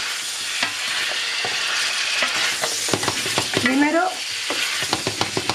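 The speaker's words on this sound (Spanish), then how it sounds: "que se fría bien la costillita. La costillita tiene que estar bien frita, bien sellada" Pork ribs fry in a pan with a steady bright sizzle, while a utensil scrapes and taps against the pan in short clusters; a voice speaks a single word near the start.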